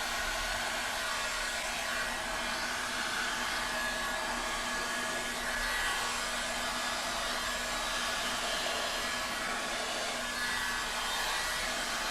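A Resi Blast resin blower blows steadily on wet resin over dried pieces, a constant loud whooshing hum with no break or talk.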